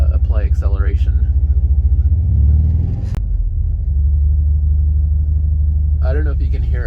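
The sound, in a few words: VW Vanagon Carat engine with Magnaflow exhaust accelerating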